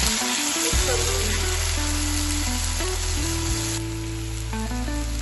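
Chopped onion and tomatoes sizzle steadily in an oil-filled pan for paneer bhurji, a loud continuous fry with scattered pops and crackles and no voices.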